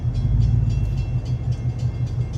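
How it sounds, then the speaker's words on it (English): A train rumbles steadily and loudly nearby, a heavy low drone with faint rhythmic clatter running throughout and no voices. "I see the train ain't moving."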